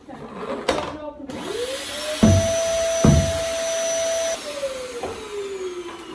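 A household vacuum cleaner motor whines up and runs with a steady, close hum, with a few bumps and clatters along the way, before spinning down and fading out.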